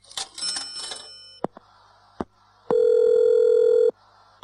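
A telephone rings for a call, first with clicks and tones, then one long, loud steady electronic ring that stops abruptly.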